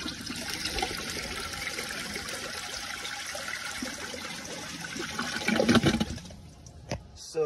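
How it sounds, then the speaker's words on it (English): A 2002 Sanitarios Maracay toilet flushes, a steady rushing wash of water that swells into a louder surge near the end before tapering off, heard alone and fairly close. "I actually do one more flush."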